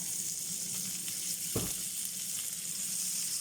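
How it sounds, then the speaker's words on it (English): Onions sauté in olive oil in a pan, giving a steady, close hiss of sizzling with one brief clatter partway through. "we're going to saute these onions off"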